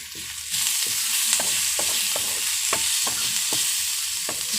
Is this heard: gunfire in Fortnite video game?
no